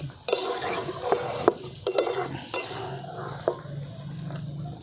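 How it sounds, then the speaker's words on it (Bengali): A spoon scrapes and knocks against a pan while chicken and potatoes are stirred together for a country chicken curry, irregular metallic clinks over a low sizzle, close and fairly quiet. "দেখুন আলুগুলো দিয়ে ভালো করে মাংসের সঙ্গে মিশিয়ে নিয়েছি"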